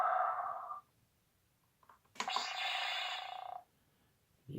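A Darth Vader toy's electronic lightsaber effect: after the end of a mechanical breath and a short quiet gap with faint clicks, a sharp ignition crackle opens into a steady buzzing hum lasting over a second before cutting off.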